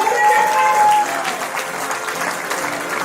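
An audience at a teachers' award celebration applauds a recipient, dense sustained clapping from a crowd that stays loud and even throughout, with a brief tone and murmur mixed in at the start.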